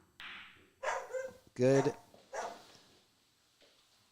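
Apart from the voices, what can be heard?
dog barking outside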